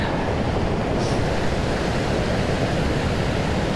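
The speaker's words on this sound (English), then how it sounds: "perched at the top of the waterfall, looking straight down the waterfall, straight down this valley" Waterfall on the Watkins Path in Snowdonia, heard from the top looking down the valley: a steady, dense rushing roar, loud and unbroken throughout, with no voices.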